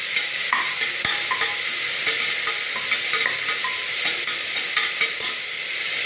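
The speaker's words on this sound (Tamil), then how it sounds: "பச்சை மிளகா போட்டுக்கலாம் இப்போ இதை வந்து நல்ல ஒரு வதக்கு நான் வதக்கிக்கலாம்" Green chillies sauté in a hot pan with mint and coriander leaves, giving a steady loud sizzle and hiss throughout, broken by occasional stirring scrapes and light clinks, with no talk.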